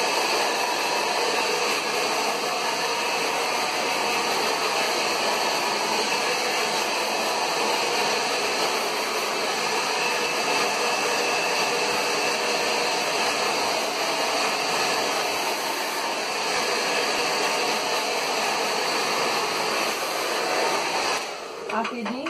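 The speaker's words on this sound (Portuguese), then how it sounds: "eu sempre gosto de tirar o excesso de água que tem no cabelo com o secador" A hair dryer blows steadily for about twenty seconds, removing excess water from wet hair before sectioning and brushing. Its constant whooshing roar stays close and loud throughout.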